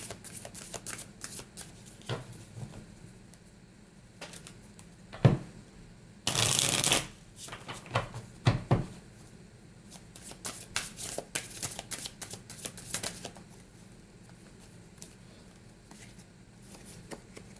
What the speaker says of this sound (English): So let's go ahead and pull a chakra intuition oracle card to close out your reading.